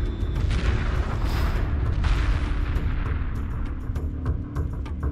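Spaceship weapons firing during a space battle in Homeworld 2 Remastered, a dense rumbling barrage of booms and blasts rolling on continuously at high volume with no talk.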